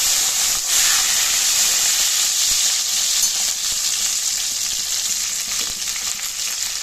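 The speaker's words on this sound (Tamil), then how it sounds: "பத்து பூண்டு பல்லு இந்த மாதிரி நசுக்க வச்சுருக்கேன் அதையும் எண்ணெயில் சேர்த்து நல்லா வதக்கி வச்சுக்கோங்க" About ten crushed garlic cloves and a sprig of curry leaves sizzle in hot oil for a kuzhambu, giving a loud, close, continuous hiss and crackle with no voices.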